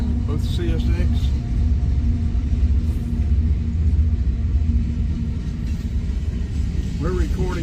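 A CSX freight train passes in Comer, Georgia, producing a loud, steady low rumble that fills the whole stretch, with a faint squeal rising near the end.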